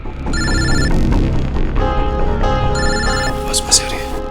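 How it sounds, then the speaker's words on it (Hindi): A telephone bell rings in repeated bursts, loud and close, with music and background noise running underneath. "सर, फोन उठाइए।"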